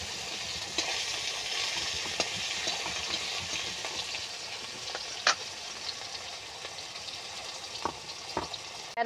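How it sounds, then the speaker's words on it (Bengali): Tomatoes, bay leaf, cinnamon and cardamom fry in a pan for a cabbage and fish-head murighonto, with a continuous hiss and occasional sharp spatula clicks and scrapes. "এই সমস্ত উপকরণগুলোকে দিয়ে আমি নেড়ে নিচ্ছি।"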